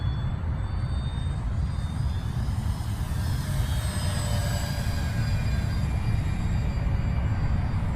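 An E-flite Spitfire Mk XIV 1.2m RC model plane flies overhead, its electric motor a continuous whine over a constant low rumble of wind, steady and fairly loud throughout.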